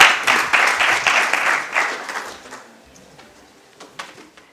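Audience applause for a startup pitch at an onsite competition, a burst of clapping that starts strong and fades out over a few seconds, with a few scattered late claps near the end.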